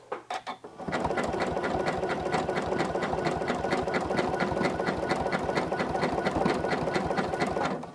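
A sewing machine stitching free-motion quilting with yarn on a quilt border, starting after a few soft knocks and then running in a steady, rapid mechanical chatter of needle strokes, close and alone.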